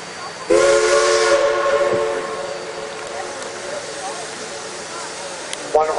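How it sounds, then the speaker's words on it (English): A steam locomotive gives one long, loud whistle blast with hissing steam, tapering off over several seconds, and a short second toot follows at the end. "One whistle means we've stopped."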